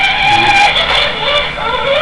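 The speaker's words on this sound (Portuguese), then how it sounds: "Este barulho é do carro do Carlos Henrique Lucininha." Carlos Henrique's car drones through a race with a loud, continuous engine whine that wavers slightly in pitch, close and without any talk.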